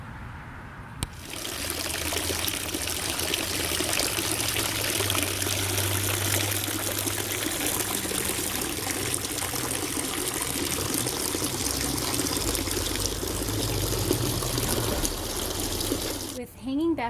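A plant pot sits in a tub of liquid fertilizer while water trickles steadily and close by. The flow runs almost unbroken, with a brief knock near the start and a rustle at the end.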